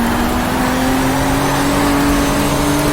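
A race car engine held flat out in fifth gear in the Power & Glory racing sim, a loud, steady droning whine with a slowly rising pitch and no breaks, heard close and alone.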